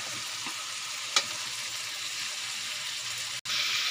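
Wild boar meat frying in a pan, a steady close sizzle with faint stirring scrapes and a brief clink, no talk.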